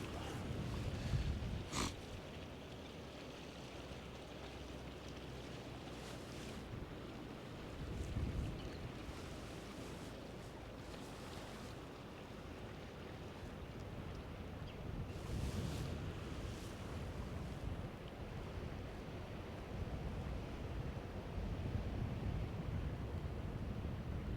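Steady wind roars by the sea, a broad rumbling rush with buffeting gusts against the microphone and a sharp knock near the start, loud and continuous, with no speech.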